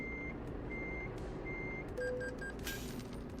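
A truck in a driving simulator game gives evenly spaced reversing beeps, clear over a low engine rumble, with a short hiss like an air brake near the end.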